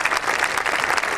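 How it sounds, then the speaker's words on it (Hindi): Audience at a Hindi comedy poetry gathering clapping for the poets, a brief burst of dense, loud, continuous applause. "Keep the applause going till Surinder takes on the mic"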